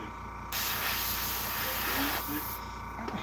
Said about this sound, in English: I hate this airbrush, man.